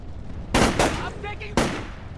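Gunfire in the video game Splinter Cell: Chaos Theory, with loud close bursts of shots in quick succession followed by another sharp burst after a short pause, standing alone without talk.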